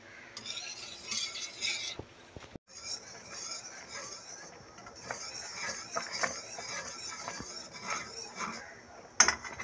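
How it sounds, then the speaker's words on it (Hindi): A spoon scraping and clinking around a pot as custard is stirred while it cooks, a steady low scrubbing with occasional sharp metallic taps, fairly quiet and close. "तकरीबन 5 मिनट के लिए हम इसे हिलाते हुए इसे पकाएंगे।"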